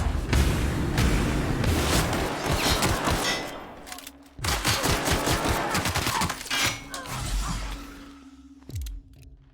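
Rapid shotgun blasts from a first-person shooter, The Outer Worlds on Xbox Series X, booming in dense bursts over most of the span with a brief pause near the middle and a final lone shot at the end.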